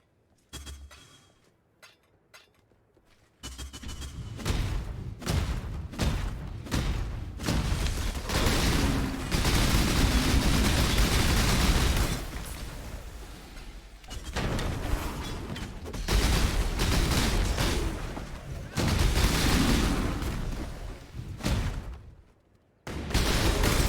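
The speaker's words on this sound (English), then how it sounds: "All of the loot explosions." Dense, sustained bursts of booming loot explosions and mechanical clatter in the video game Path of Exile, loud and nearly continuous, with brief quiet gaps at the start and near the end.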